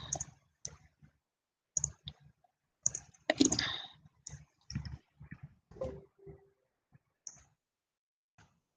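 Computer mouse clicks during a traumatology lecture, a scattered series of sharp, close clicks of varying loudness with short pauses between them.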